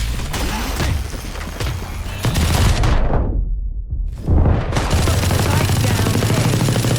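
Dense gunfire fills a round of Valorant on the map Haven, a steady stream of shots that briefly drops out into near silence before resuming at full loudness.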